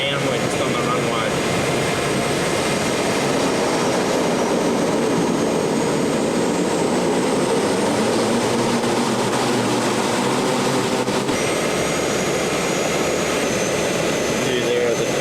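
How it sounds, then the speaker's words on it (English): A jet airliner rolls along the runway at an airport just after touching down, its steady engine roar and rumbling wheels filling the cabin continuously throughout, with faint voices of people talking. "We've just touched down now at the airport. We're on the ground, we're just on the runway."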